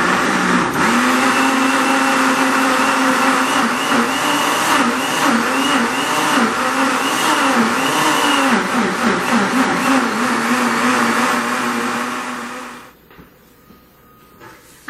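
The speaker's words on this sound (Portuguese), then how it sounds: "tô colocando aqui no liquidificador." A blender roars loudly and continuously, its motor pitch wavering as it chops coarse corn kernels, then cuts off abruptly near the end.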